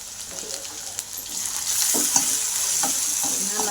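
Potatoes cooking in a pan for sabudana khichdi, a soft steady sizzle growing louder partway through, with light scraping stir strokes and small clicks of a spoon, no voices.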